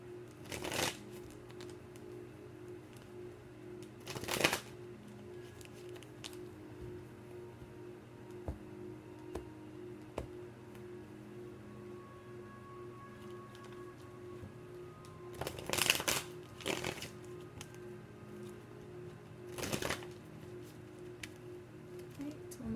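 Soft tarot card shuffling with occasional sharper riffles and taps over a steady low background hum, no voices.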